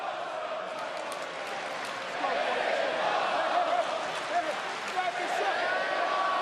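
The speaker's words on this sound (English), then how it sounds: "WWE fans applauding both of these men in this highly competitive cruiserweight matchup" WWE wrestling fans in an arena applauding a competitive cruiserweight match, a steady wash of clapping and crowd noise that swells slightly partway through.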